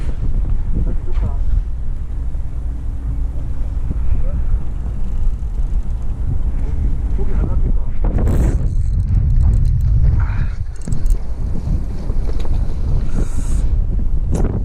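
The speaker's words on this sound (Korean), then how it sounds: "바람이 지금 너무 많이 불어가지고" Strong wind blowing at sea on a fishing trip off Ulleungdo, roaring steadily and buffeting the microphone with low rumbling gusts throughout, with brief splashy bursts near the middle.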